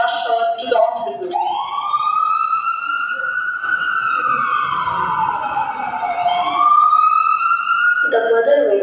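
An ambulance siren wails in long rising and falling tones, loud and close, with brief voices at the start and end.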